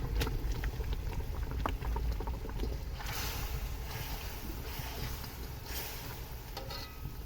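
About a quarter kilo of ghee melts into caramelized sugar with cloves in a pan for suji halwa, giving a steady close bubbling sizzle with occasional sharper crackles.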